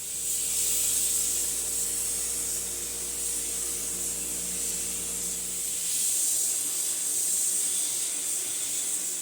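Spray gun applying sealer to a finely sanded natural-finish guitar inside a spray booth: a steady, close airy hiss over a low booth fan hum, which drops away partway through while the spray continues.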